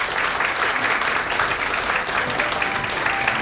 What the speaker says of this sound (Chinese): 请再次鼓掌。